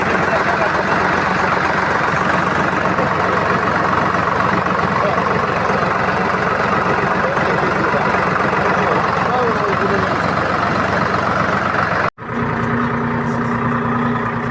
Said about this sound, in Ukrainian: Ну що ж, завели з третьої попитки.